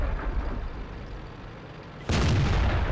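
Tank cannon fire in the Clan Wars tank battle game: a heavy gunshot boom lands about two-thirds of the way in and rings out loud over a rumbling battlefield background.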